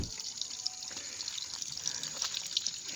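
Water pouring steadily from a drum at an outdoor camp, a continuous close splashing rush with faint drips throughout and no talk.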